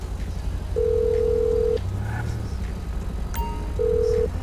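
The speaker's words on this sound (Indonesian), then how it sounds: "Telepon Franklin" A mobile phone places a call in the video game GTA V, with a long electronic ringback tone, a pause, and then a second tone, heard over a low hum with no talk.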